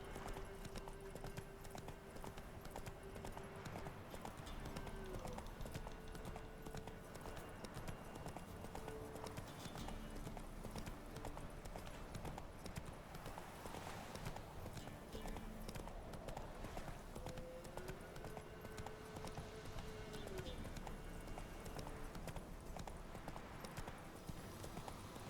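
Roach the horse gallops in the game Witcher 3, with a steady, continuous clip-clop of hoofbeats running the whole way through over a busy game soundscape.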